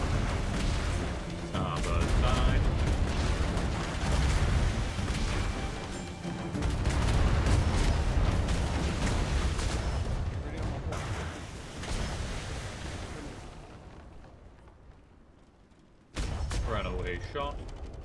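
Ship cannons in a naval video game fire in repeated heavy booms and rumbling blasts, loud and sustained before a brief lull and another burst, while players talk over the gunfire.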